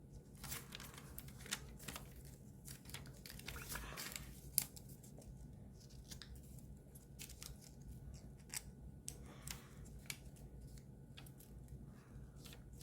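Paper being folded for an origami ninja spinning top, heard as quiet, close crinkles, creases and soft taps scattered throughout, with faint room hiss and no talk.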